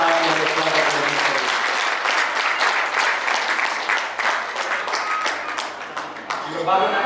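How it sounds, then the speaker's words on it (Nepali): A crowd at a Nepali Christian wedding breaks into sustained, fairly loud applause welcoming the bride's uncle, with dense clapping throughout and a brief voice at the start. "उहाँलाई जोरदार तालीको साथमा स्वागत गर्छु।"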